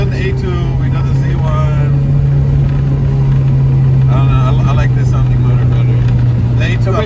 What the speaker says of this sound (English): I like this sounding motor better